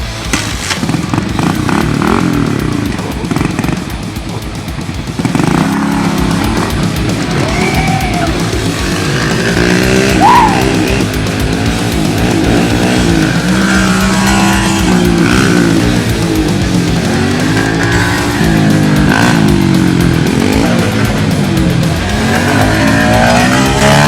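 A Kawasaki motorcycle engine revs loudly up close, its pitch climbing and falling in repeated sweeps over a rough, steady idle rumble, with no talking.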